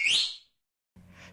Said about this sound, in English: they suddenly heard a whistle from the roadside